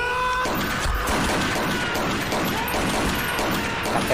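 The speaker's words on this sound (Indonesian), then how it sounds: "Kopral Jo langsung menembak Kopral Lee" Gunfire rattles through a tense military horror film scene, with a loud continuous barrage of shots and crashes that fills the space with no voices.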